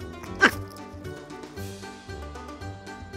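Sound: dog barking angrily

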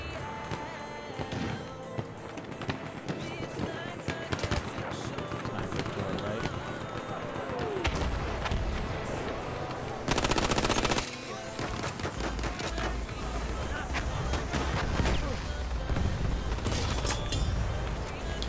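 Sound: gunfire from a gun in the video game Battlefield 1

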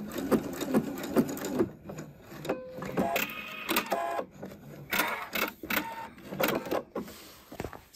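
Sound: sewing machine stitching around a pocket bag

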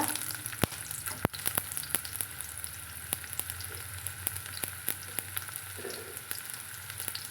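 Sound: small onions frying with mustard seeds in oil

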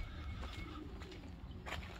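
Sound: pigeons cooing

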